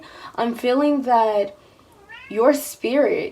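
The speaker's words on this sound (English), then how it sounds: "that was my cat" A pet cat meows indoors, a few drawn-out, close and fairly loud cries, the last ones rising sharply, mixed in with a person speaking calmly nearby.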